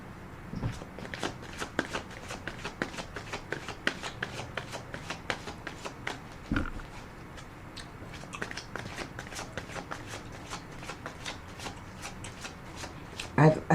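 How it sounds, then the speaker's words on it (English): Angel answer tarot cards riffled and shuffled close by in a rapid, steady run of crisp card flicks, with a voice speaking over them. "So, I'm going to pull an angel answer card."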